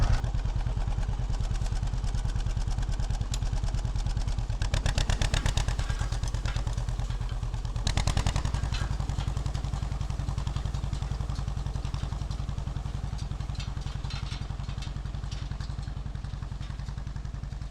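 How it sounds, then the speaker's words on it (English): A 1948 John Deere Model B tractor pulling a New Holland 256 hay rake, its steady two-cylinder engine thumping evenly and loudly at close range, with light clatter from the rake throughout. "let you guys watch me rake some hay"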